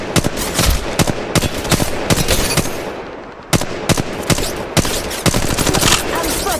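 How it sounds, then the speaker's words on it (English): Gunfire from the mobile video game Apex Legends Mobile comes in rapid, dense bursts: loud automatic volleys and repeated sharp shots crowd together with barely a pause. "Listen up, I'm getting shot at!"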